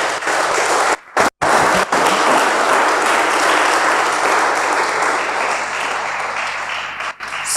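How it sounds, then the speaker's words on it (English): A university audience at a leadership session applauds the president and provost in a dense, sustained wash of clapping, briefly broken by a couple of sharp cuts near the start, then steady and loud to the end. "I'm sure you can clap again for him."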